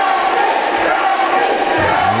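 Wrestling crowd cheering for Aaron Matthews, a loud, sustained roar of voices throughout, with a couple of dull thuds.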